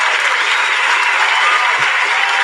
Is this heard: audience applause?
yes